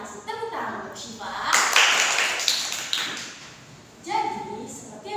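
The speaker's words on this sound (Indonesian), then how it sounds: "Yuk kita kasih tepuk tangan untuk Syifa." An audience at a youth peer education competition gives a brief burst of applause for a participant named Syifa, lasting a couple of seconds between stretches of speech.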